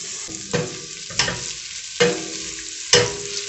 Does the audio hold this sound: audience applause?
no